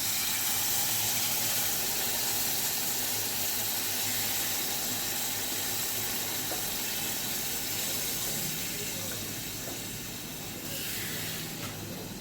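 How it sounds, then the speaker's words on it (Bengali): Water pours steadily into a pan of fried spices for a thin pabda fish curry with potato and eggplant, giving a continuous hiss and rush that eases slightly near the end. "এখন আমি জল দিয়ে দিচ্ছি।"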